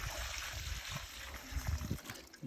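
Water trickling and splashing as it is poured onto thuja, juniper and boxwood cuttings planted for rooting, a soft irregular dribble close by with low thumps and faint background noise.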